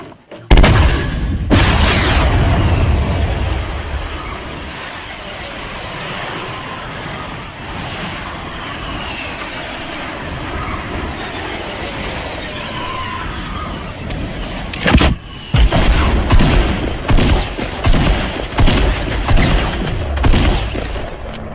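Guided missiles fly and explode in Fortnite Battle Royale, with loud booms and a long rumbling roar of missile flight, then a cluster of sharp blasts near the end, with no voices.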